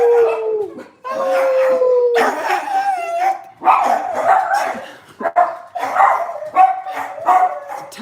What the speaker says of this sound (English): Basenjis don't bark, so that's his way of singing.